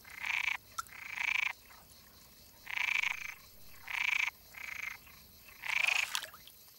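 Screaming frogs croak in a series of five or six buzzing, drawn-out calls near a well, evenly spaced with short pauses, fairly close and clear against a quiet background.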